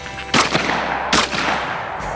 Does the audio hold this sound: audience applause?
no